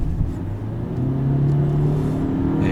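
A Honda Accord 1.5 turbo in normal drive mode revs hard under full throttle, its engine note climbing and holding with a strong, steady drone, close up and continuous with no talking.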